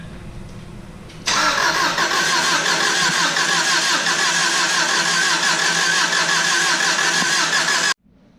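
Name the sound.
Subaru engine first startup after head gasket and clutch job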